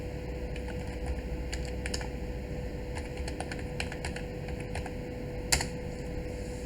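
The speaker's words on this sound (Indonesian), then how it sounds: "Kita akan ketikkan" Steady, irregular clicking of keys on a computer keyboard while setting up an Ubuntu server, close and fairly soft, over a constant electrical hum with one slightly louder keystroke near the end.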